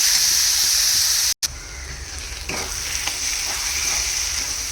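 Tomato and gathiya (sev) bhaji cooks in a pan with a steady, close sizzle and hiss, a brief stir partway through and no talking.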